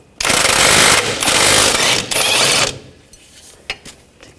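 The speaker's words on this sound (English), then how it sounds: "21mm socket." A socket ratchet with a 21mm socket works a nut loose on a rear shock bolt of a 2000-2006 BMW X5, giving a loud, dense run of rapid clicking in three bursts before fading to a few faint scattered clicks.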